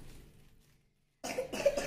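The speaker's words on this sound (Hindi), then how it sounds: "खांसी क्यों हो रहा है बाबू, खांसी क्यों हो रहा है?" After a brief silence, a young child coughs in a few close, harsh bursts in a quick row.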